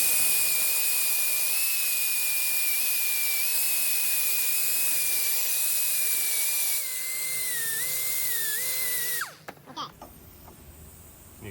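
A glazed brake rotor surface is sanded lightly to knock down its shine, giving a loud, steady high-pitched whine from the sanding tool that shifts pitch near the end, then cuts off abruptly into clattering handling noise.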